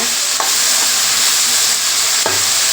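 Tomatoes sizzle steadily in a hot frying pan while a utensil scrapes and stirs, with a couple of sharp clatters.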